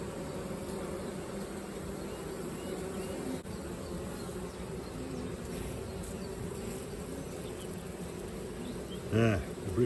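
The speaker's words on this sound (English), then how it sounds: "Some of these bees are working on seed rape." Honey bees buzz in a thick, continuous drone around an opened hive while a colony is being split, with a brief louder swell near the end.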